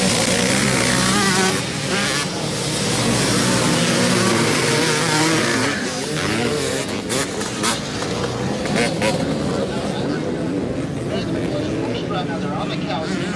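Vintage motocross motorcycles race at Unadilla, with the number 40 Kawasaki out front; a dense, continuous roar of several engines revs and drones nearby under an announcer's steady commentary.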